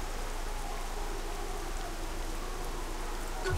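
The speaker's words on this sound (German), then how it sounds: "Und ich stehe hier mitten im Regen und mein schöner Anzug wird nass." Rain falls steadily in the video game Saints Row The Third, a constant even hiss of moderate loudness with no other sounds standing out.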